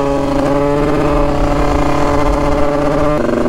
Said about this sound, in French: première petite accélération de la moto